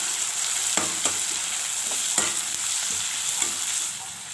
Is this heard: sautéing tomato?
yes